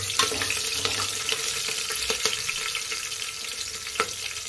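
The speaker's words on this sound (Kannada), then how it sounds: "ಫ್ರೈ ಮಾಡ್ಕೋಬೇಕು." Something frying in a pan while making a mushroom biryani, a steady close sizzle with occasional stirring clinks and scrapes and no talking.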